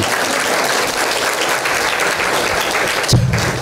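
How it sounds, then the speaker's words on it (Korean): Enthusiastic applause from a church congregation fills the room, dense and loud, with a brief low rumble near the end as the clapping continues. "근데 오늘 얼마나 잘하는지 박수 한번 해주세요. 박수."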